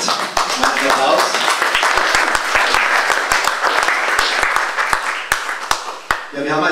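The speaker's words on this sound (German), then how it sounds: "Applaus." Audience applause at an evening tourism association meeting in the Karwendel silver region, a dense, steady clapping from a hall crowd that fades out near the end.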